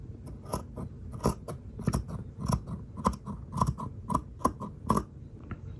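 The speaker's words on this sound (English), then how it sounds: "I'm going to trim away the top of this seam" Sharp scissors snip repeatedly through lace tablecloth fabric while a seam is trimmed, giving crisp, close clicking cuts in an uneven rhythm with soft rustling of cloth between them.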